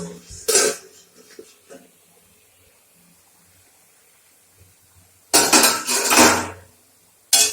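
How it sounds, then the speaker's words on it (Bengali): A metal lid clatters onto a cooking pot of frying taro leaves in two loud bursts of clanking, one brief near the start and a longer rattle later, with quieter kitchen sounds between. "এইবার আমি একটু ঢেকে দিব ঢাকনাটা তুলে দেখে নেব"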